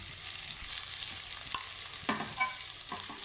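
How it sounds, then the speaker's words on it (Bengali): Mashed potato stirred in a frying pan, a steady hiss of frying underneath with a few soft scraping knocks of the spatula, close and with no talk. "তো আলুটাকে আমি সুন্দর করে একটু নেড়ে চেড়ে নেব"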